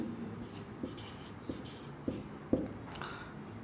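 A pen writes out a coordinate geometry solution on paper, giving soft, rhythmic scratching strokes with light taps roughly every half second, close and quiet over a faint room hum, with some speech around it.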